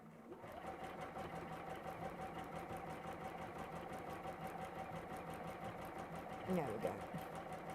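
A domestic sewing machine stitches fabric in a rapid, steady mechanical chatter that runs throughout at moderate volume, with someone speaking briefly over it near the end.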